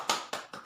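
Meeting participants clap together in a group spirit-clap, a few sharp broadband bursts in quick rhythmic succession, moderately loud and close, with no talk over them.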